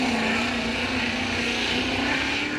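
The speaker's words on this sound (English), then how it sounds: "You hear the RPMs kind of bogging down" A Formula Drift Pro 2 car's engine drones steadily and loud through the whole stretch, with a sustained high rev note and a slight sag in pitch as the RPMs bog down, no voices over it.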